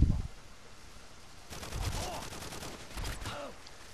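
Vector submachine gun bursts in a multiplayer video game match, two bursts of rapid fire with ringing tails rising over low background noise, moderately loud and unaccompanied by talk.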